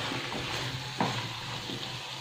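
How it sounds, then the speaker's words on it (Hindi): Potatoes and onions stirred and fried together in a pan of oil, an even close sizzle with one brief scrape of the spoon partway through. "इसमें हम डालेंगे जो हमने प्याज लिया है और आलू। तो ये मैंने अच्छे से मिक्स कर लिया है"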